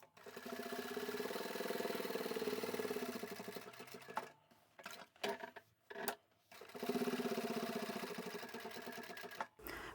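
A sewing machine top stitches fabric for a folding wallet, a rapid, steady mechanical chatter in close bursts broken by short pauses and clicks as the stitching stops and restarts.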